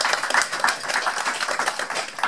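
A meeting audience in Paris gives a brief burst of brisk, dense clapping, close and fairly steady, with no voices.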